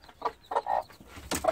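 Chickens cluck in a farmyard pen shared with three-week-old pheasant chicks hatched under a hen, a series of short close clucks in uneven bursts with no talking.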